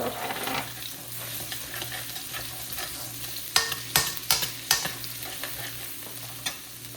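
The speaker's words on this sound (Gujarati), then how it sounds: "તેલ ગરમ થાય એટલે નાખીશું ગાર્લિક" Garlic going into hot oil for street-style Hakka noodles, a soft steady sizzle with a run of sharp spatula knocks and scrapes against the pan, close by, with no voices.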